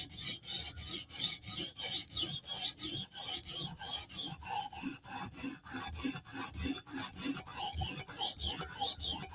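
Spyderco Slysz Bowie knife tip drawn repeatedly across a sharpening stone, a steady rhythmic rasping of about two to three strokes per second, close and clear with no voices.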